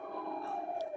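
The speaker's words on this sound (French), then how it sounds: "Les sirènes retentissent" Sirens sound across Turkey at 9:05 to mark the hour of Atatürk's death, a steady sustained wailing tone held without break and heard alone.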